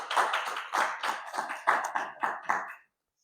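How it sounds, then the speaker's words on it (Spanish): A congregation at a Christian church service claps in unison, loud close rhythmic beats in bursts of quick strikes, stopping abruptly before the end, with no talking. "Démosle un aplauso al Señor"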